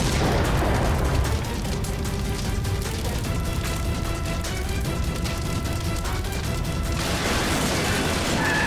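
A car bomb explodes in a loud, continuous roar of blast noise, crackling and booming throughout with no voices.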